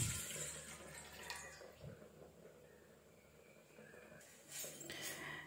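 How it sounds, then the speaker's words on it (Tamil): 300 ml of water is poured into a cooking vessel, a bright splashing trickle at the start that fades, then a second burst of pouring near the end, with quiet room sound between. "இதுக்கு முதல்ல ஒரு பாத்திரத்தில் 300 ml நம்ம தண்ணீர் ஊற்றிக்கலாம்."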